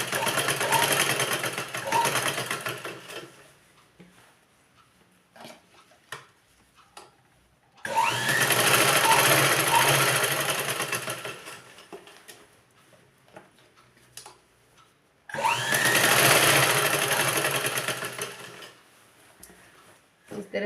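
Sewing machine stitching a ladies' trouser, running in three long loud bursts of steady whirring separated by quieter pauses with faint handling clicks.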